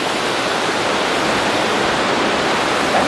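An ocean wave breaking and washing in, a continuous broadband roar of surf that stays loud and steady throughout, with no voices.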